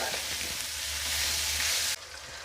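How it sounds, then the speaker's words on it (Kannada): A breakfast dish frying in a pan, giving a steady close hiss of sizzling oil that drops away abruptly near the end; no one speaks. "ಅಲ್ಲಿ ತನಕ ಫ್ರೈ ಮಾಡಬೇಕು"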